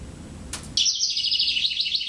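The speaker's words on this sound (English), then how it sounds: "here's the birds" After a short click, a lively run of bright, rapid bird chirps starts suddenly and continues steadily at close range, a sound design example with no voices.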